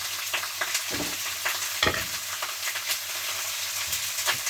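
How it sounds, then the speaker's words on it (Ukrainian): Pork frying in a frying pan sizzles steadily with crackling spatters, punctuated by occasional scraping stirs, close and fairly loud. "Все, процесс пішов, сковорідка заскорчала."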